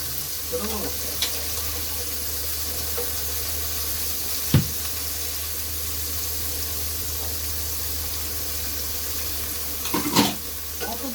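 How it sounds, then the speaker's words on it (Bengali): Paneer fries on a nonstick tawa with a constant low sizzle and hiss, punctuated by a few sharp scrapes or taps of a spatula, with faint talk in the background. "নস্টিকের তাওয়ালে পনিটা খুব ভালো করে ভাজা হয়"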